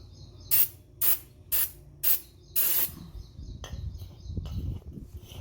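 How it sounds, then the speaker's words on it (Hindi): Aerosol rust remover sprayed from a can onto a Daihatsu Move brake rotor at home, five sharp hissing bursts in quick succession followed by quieter handling clatter and movement. "और आप इसको यहाँ से स्प्रे कर दें।"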